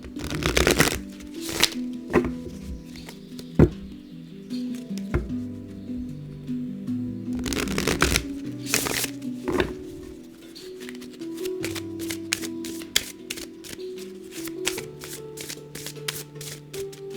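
Oracle cards shuffled by hand close to the microphone, a series of quick riffling bursts and soft crisp snaps, some dense clusters and scattered single flicks, fairly quiet, with no speech.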